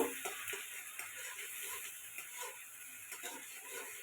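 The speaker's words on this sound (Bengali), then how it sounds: "টমেটো পেস্টটা খুব ভালো করে কষিয়ে নিব" Tomato paste fries in a pan with a soft, continuous sizzle and hiss, faint and steady, broken by light stirring taps.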